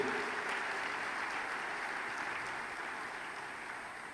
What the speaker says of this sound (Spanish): Denle un aplausito al Señor de regalo.